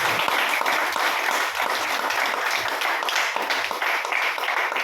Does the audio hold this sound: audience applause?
yes